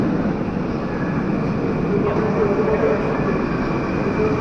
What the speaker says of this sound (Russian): Вот резервный поезд подъезжает.